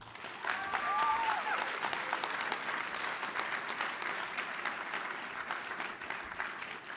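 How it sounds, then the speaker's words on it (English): An audience at a health and food policy event gives sustained applause for Secretary Kennedy, a broad, steady wash of clapping lasting the full seven seconds, with a faint whistle early on. "Can we get a bipartisan round of applause for Secretary Kennedy"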